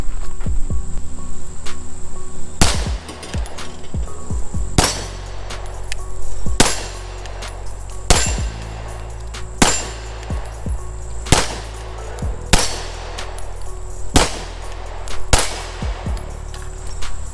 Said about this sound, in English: for now, we're just gonna shoot, have some fun with it